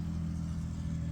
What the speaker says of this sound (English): that truck's loud.